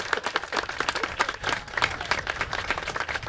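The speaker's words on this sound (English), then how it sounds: "Round of applause for Trevor Bob." Audience applause at a theater press event, a dense, steady wash of many hands clapping at moderate volume throughout, with no clear voices over it.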